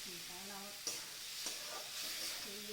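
Pointed gourd sizzles with salt in a pan for a coconut recipe, a constant frying hiss broken by a few sharp scrapes of a spatula, with faint tonal sounds underneath.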